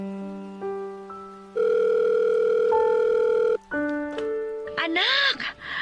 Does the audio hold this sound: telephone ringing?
yes